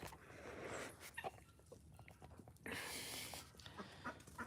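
Backyard chickens cluck and scratch around a compost pile, with scattered soft clucks and rustling close by. A denser burst of activity follows midway through, all at a low overall level.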